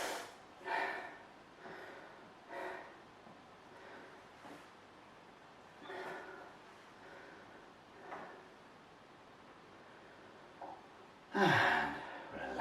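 Heavy, effortful breathing during a strength training circuit for runners, with repeated sharp gasps and exhalations at roughly two-second intervals, close and fairly quiet, ending in a louder blowing breath.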